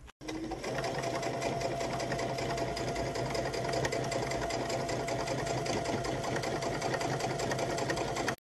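Sewing machine stitching close to the edge of fabric flaps, a continuous rapid mechanical whir with fast even needle ticking, loud and near, running steadily after a brief start.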